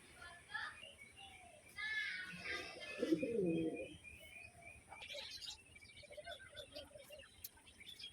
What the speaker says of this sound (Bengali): এখানে সব পায়রা একসাথে রয়েছে